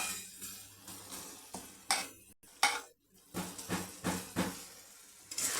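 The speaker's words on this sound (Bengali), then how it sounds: "একটু নাড়াচাড়া করে নেব" Prawns coated in mustard paste stirred in a kadai, a series of close, rhythmic spoon scrapes and clanks against the metal pan, with short pauses between strokes and faint sizzle underneath.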